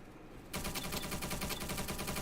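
Rapid automatic gunfire in a competitive first-person shooter match, starting abruptly after a quiet half second and then running loud and continuous as a sustained burst of close shots.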